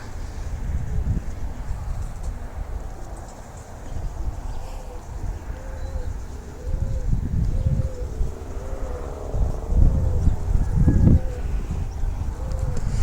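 A flock of pigeons coos from a distance, soft repeated low calls over steady outdoor background noise, with a few thumps and brief voices.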